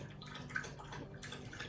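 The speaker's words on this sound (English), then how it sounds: "sorry about the dog noises" A dog laps up water, soft wet splashing and dripping sounds in quick succession, faint and close in a quiet room.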